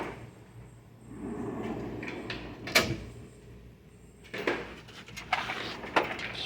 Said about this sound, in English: speed drawer, pretty empty.